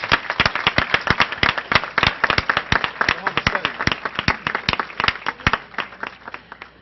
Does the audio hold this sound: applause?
yes